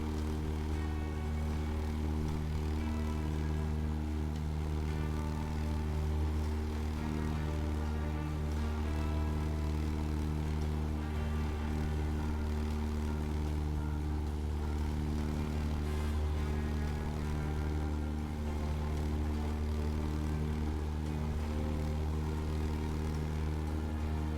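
Cessna 172 piston engine drones steadily in flight while approaching an airport, a constant loud low hum with a stable tonal pitch and no talk.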